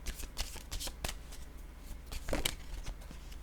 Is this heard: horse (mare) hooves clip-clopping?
no